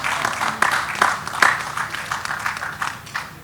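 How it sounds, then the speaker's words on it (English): Audience applause at a panel discussion: a scattered patter of clapping hands, moderately loud and steady with a few sharper claps standing out. "An applause."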